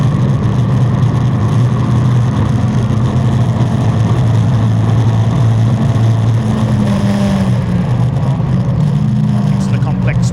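Caterham Sigma 150 and Sigmax racing cars circulate Thruxton circuit mid-race, a loud continuous engine drone with cars passing, under steady commentary.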